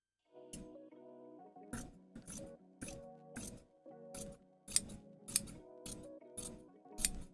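Scissors roughly cutting through fabric for a puppet-making craft, a series of crisp snipping strokes in an uneven rhythm over a steady low hum, close and moderately loud, with no talking.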